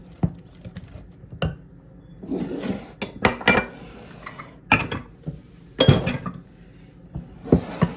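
Wet ingredients for a carrot, zucchini and pear bread are mixed in a bowl, giving irregular clinks and scraping knocks of a utensil against the bowl in short bursts, close by, with no talking.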